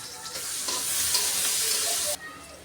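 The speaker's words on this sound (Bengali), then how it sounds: "পেঁয়াজ কাঁচামরিচ একসাথে দিয়ে দিলাম" Onions and green chilies frying together in a pan, a steady broadband sizzle with light stirring that runs continuously and then drops away abruptly near the end; no talking.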